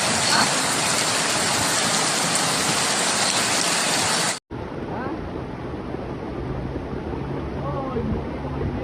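Heavy rainstorm downpour in Qinzhou, Guangxi, a dense loud roar of rain falling on surfaces that runs continuously, cuts out briefly partway through and then resumes from a somewhat different recording.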